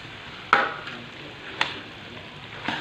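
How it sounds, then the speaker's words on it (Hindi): Kachnar buds stir-fried in spice masala over medium heat, a soft continuous sizzle broken by three sharp spatula knocks against the pan, close and quiet. "इसको भी हमने इसी तरह मसाले के अंदर भूनते जाना है"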